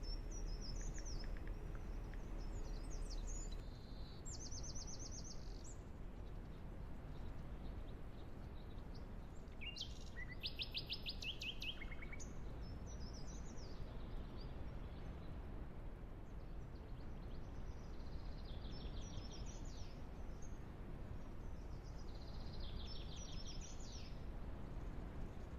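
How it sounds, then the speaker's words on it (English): Birds in a video game's open plains landscape chirp in short, high trills scattered over a faint, steady hiss of light wind, calm and distant, without any talk. "All I hear are birds chirping and a little bit of wind."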